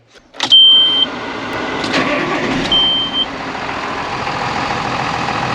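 A John Deere combine engine cranks and catches, a sharp mechanical clunk followed by a loud, steady running rumble with a couple of brief high tonal whines over it, close by and without speech.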